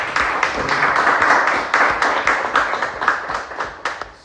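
A small audience at a Toastmasters club session claps. Individual hand claps are distinct at first, then the clapping swells and fades out toward the end.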